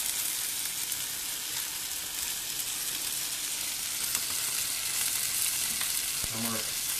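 Chicken and vegetable fajitas frying in a pan, a steady, bright sizzle with light crackle that continues evenly, and a brief low knock or scrape near the end.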